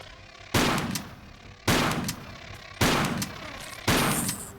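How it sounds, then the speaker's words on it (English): Four loud shotgun blasts fired in the video game Tomb Raider 4, evenly spaced about a second apart, each a sharp boom that rings out and decays before the next. "Use a shotgun."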